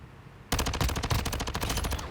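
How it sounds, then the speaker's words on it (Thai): Single-shot gunfire in Warzone Mobile: after a brief quiet start, a loud run of rapid sharp shots bursts in close and continues to the end, with no talking. "หนูยิงทีละนัด ยิงรัวๆไม่โดนนะต้องยิงทีละนัด"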